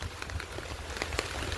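Rain falls on a farmhouse with bananas and rabbits nearby, a brief steady patter of scattered drops over a soft continuous wash, no talking.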